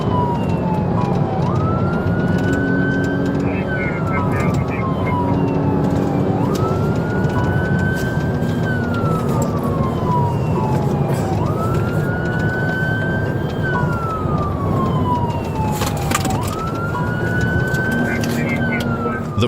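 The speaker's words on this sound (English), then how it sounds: "The use of lights and sirens" Police car siren wailing during a high-speed dashcam pursuit, loud and close, rising then slowly falling in repeated cycles every few seconds over engine and road noise, with a voice talking throughout.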